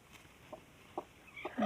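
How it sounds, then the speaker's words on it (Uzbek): A few calm hens give short, faint, scattered clucks nearby, isolated soft calls with a slightly louder one at the very end. "Tovuqlarim o'zimga o'xshab yuvosh."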